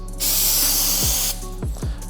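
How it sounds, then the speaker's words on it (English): Glue accelerator sprayed from a can onto a surface on a 3D printed sub, one loud sustained aerosol hiss lasting about a second, followed by a few low thumps. "The way you're supposed to use the accelerator is you spray it on one surface"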